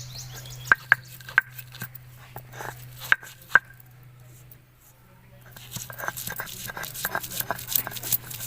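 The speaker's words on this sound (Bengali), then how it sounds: "বেগুন ফ্রাইয়ের জন্য এখানে আমি মশলা বেটে নেব" Ginger, garlic and coriander leaves ground into a spice paste for fried eggplant, with sharp intermittent knocks and scraping over a steady low hum, then a busier stretch of grinding and rubbing noise toward the end.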